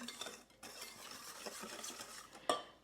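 Spoon stirring lemon curd ingredients together in a pot, with a steady scraping and clinking against the metal, close and moderately quiet, ending in one sharper clank.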